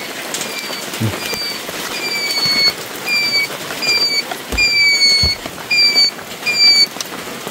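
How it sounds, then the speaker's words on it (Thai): Steady rain falls through a forest, a dense constant patter on leaves and ground, with birds chirping at intervals over it. "ฝนตกคือจังซี่แหละ"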